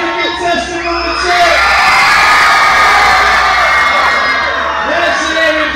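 Club crowd roaring for a contestant during a cheering contest: shouts, whoops and screams rise quickly and stay loud and sustained, with steady musical tones humming beneath the din.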